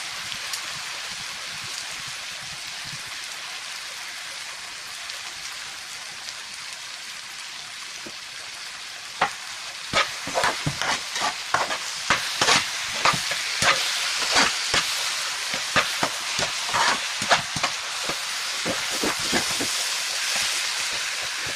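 Chopped onions sauté in a pan for a dosa-batter pizza, a steady close hiss of frying that later fills with rapid, irregular spatula scrapes and clicks against the pan.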